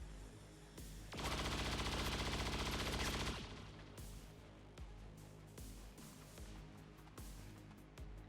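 In the video game XCOM 2, a dense two-second burst of rapid automatic gunfire rings out loud and close, followed by scattered fainter single shots and clicks.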